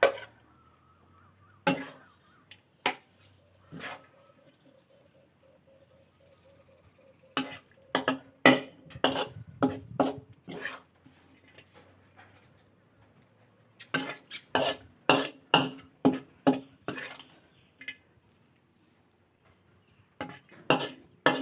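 A spoon scrapes and clinks against a pan and plate while stir-fried chopped catfish with holy basil is served, with scattered taps and then rapid clusters of metallic knocks close by.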